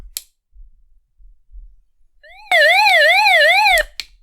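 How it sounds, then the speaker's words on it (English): A loud electronic SOS siren from a Nitigo 318 AM/FM weather emergency radio, a rapid rising-and-falling wail sounding alone for just over a second after a brief rising tone, then cutting off abruptly. "If you guys can't handle flashing lights or sirens, you might want to turn this down or look away."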